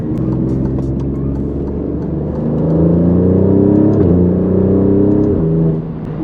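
An Alfa Romeo Giulia QV with a Ferrari-derived engine accelerates, its loud, smooth engine drone climbing steadily in pitch through the gears, with no voices over it.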